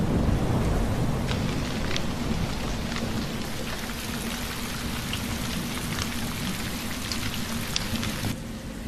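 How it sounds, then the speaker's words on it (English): Steady, dense rain of the January wet season pours down on dry plains, a continuous hiss with scattered drop impacts and a faint low rumble beneath, holding even for nearly nine seconds before easing slightly at the end. "The rains finally return, bringing much-needed relief to the parched earth."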